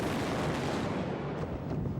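Artillery fire during the Vietnam War fighting at Hill 875 near Dak To, a dense, heavy rumbling roar of barrages that stays loud and sustained throughout, with no voices.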